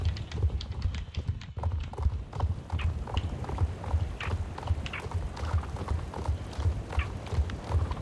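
Horse hooves clip-clop in a steady, even trotting rhythm while riding toward a show jumping contest in Star Stable Online, moderately loud and continuous throughout with no talking.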